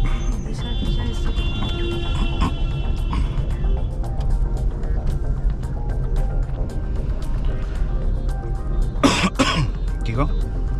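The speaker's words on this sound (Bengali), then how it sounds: "এই কাশিটা" A person coughs inside an Alto K10 VXI Plus hatchback on a family highway drive. Low engine and road hum runs throughout, and one sharp, loud cough burst comes near the end. People talk in the cabin.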